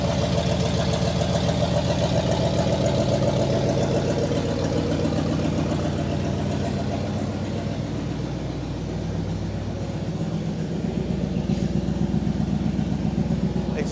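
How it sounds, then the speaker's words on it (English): A 1960 Pontiac Catalina Convertible, a one-owner car that sat for 40 years, idles steadily with a low, even exhaust rumble throughout, close and continuous, with a slight dip midway. "Exhaust sounds pretty good."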